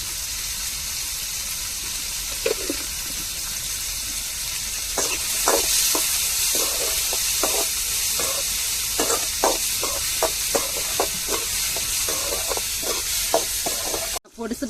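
Onions sautéing in a pan with salt added give off a steady broadband sizzle, joined about halfway through by a run of sharp utensil scrapes and taps that keeps on to the end.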